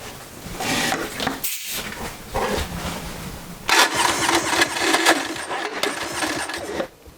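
Small engine for a homemade mini jet boat runs on a test, a steady close mechanical drone that surges louder around the midpoint and again near the end, with a brief dip in between.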